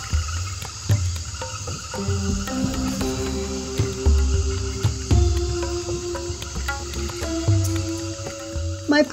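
Night chorus in the Amazon jungle of Ecuador, dense layered calls of frogs and insects, steady trills and repeated croaks close and far, continuous with no voices.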